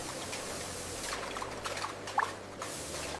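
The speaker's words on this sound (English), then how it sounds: "Before anything touches the liquid, every container is rinsed clean." Containers are rinsed on an automated bottling line in a Coca-Cola factory, with a steady pouring and splashing wash of liquid, close and fairly quiet, and brief drips near the end.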